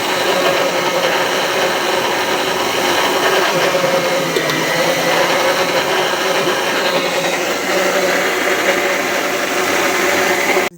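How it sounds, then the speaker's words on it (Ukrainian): A blender roars steadily at close range for the whole stretch, a loud, dense motor whir with chopping churn and no pauses, as it blends tomatoes. "Тоді переб'ю блендером і буду варити."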